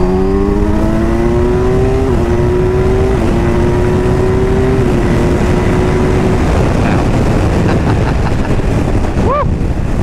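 A 2023 Kawasaki Ninja 1000 SX engine pulls hard in third gear, its rising whine climbing steadily under loud, constant wind roar close to the rider, with brief dips where the pitch steps.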